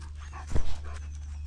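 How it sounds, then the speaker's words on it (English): A happy dog panting close by, quick breathy puffs under a steady low hum, with one louder huff midway through the brief moment. "he's just a happy dog"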